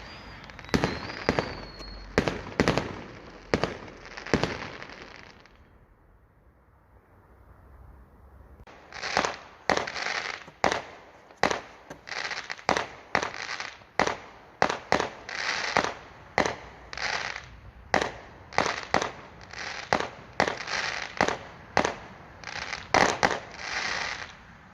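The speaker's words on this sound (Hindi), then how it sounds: "पहुंचा क्योंकि फायर वर्क शुरू हो गया है।" Bonfire Night fireworks outdoors: a long series of sharp bangs and crackling bursts, loud and close, with a brief lull before dense, regular explosions resume and continue to the end.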